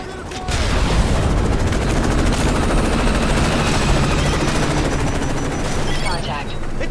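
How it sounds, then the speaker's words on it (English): A-10 attack jets strafing tanks in Call of Duty: Modern Warfare 3, a dense, loud, continuous roar of rapid cannon fire and explosions that runs for several seconds without a break, with voices faintly mixed in. "The air corridor is clear for our A-10s to commence gun runs"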